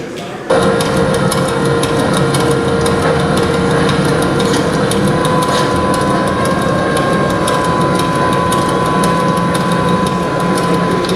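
A train engine starting to depart, heard from the cab: a loud, steady drone with tonal whine cuts in abruptly after half a second and holds for the rest, with a voice underneath.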